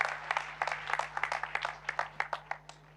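Congregation applauding at a church testimony service, dense irregular clapping from many hands with sharper individual claps standing out, moderately distant, a steady low hum beneath.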